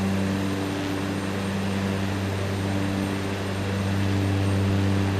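Steady propeller aircraft engine drone from Microsoft Flight Simulator with the mixture leaned, a continuous loud hum with strong low harmonics and no pauses throughout.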